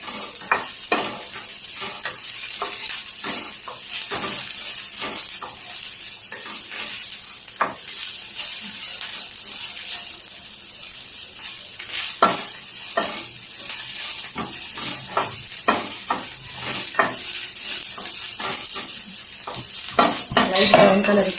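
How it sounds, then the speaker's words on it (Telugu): Onions or masala fry and sizzle in a pan for an egg pulusu gravy, with a steady hiss under repeated scraping and clinks as a spatula stirs against the pan, close and continuous with no talk. "కొంచెం కలర్ చేంజ్ అయ్యేంత వరకు వేయించుకోవాలి"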